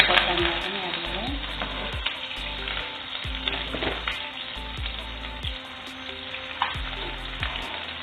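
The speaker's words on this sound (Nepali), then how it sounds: "प्याजलाई चाहिँ 2 मिनट जति फ्राई हुन दिने।" Chopped onion and green chili frying in a pan, a loud continuous sizzle broken by regular scraping strokes of a spoon stirring.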